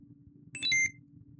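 ESP32 robot car built with a DRV8833 driver and N20 motors gives a single short electronic beep of a few quick tonal chirps while being flashed, loud and clear over a faint low hum.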